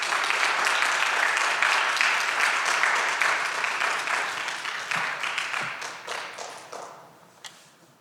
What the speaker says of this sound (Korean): 큰 박수로 맞겠습니다